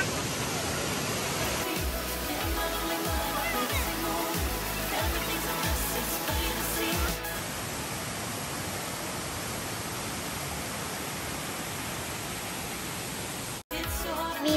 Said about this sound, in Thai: คาเฟ่ที่นี่มีน้ำตกด้วยนะคะ